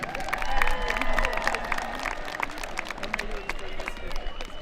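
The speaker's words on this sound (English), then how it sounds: "Another nice round of applause for restaurant trades." A crowd at a technical school commencement applauds and cheers the restaurant trades graduates. The clapping is steady and moderately close, and chatter and voices run underneath.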